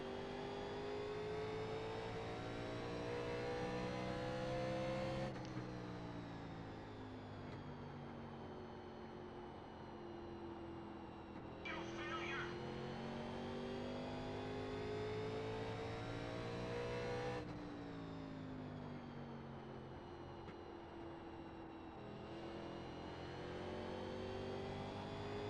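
A NASCAR Legends race car engine at Richmond in the iRacing game drones steadily at high revs. Its pitch shifts and dips every few seconds as the car gears and brakes through the corners of each lap.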